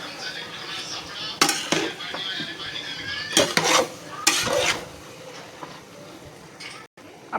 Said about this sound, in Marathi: यामध्ये घालायचे आहे आता कोथिंबीर आणि यामध्ये घालायचं आहे हे पनीर आणि ह्याला आता छान मिक्स करून घेऊया आपण